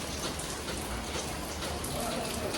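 Steady rain falls continuously as a dense, even hiss on a festival day during Ganpati celebrations, with no talk and no pauses.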